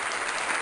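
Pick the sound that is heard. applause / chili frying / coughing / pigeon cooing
applause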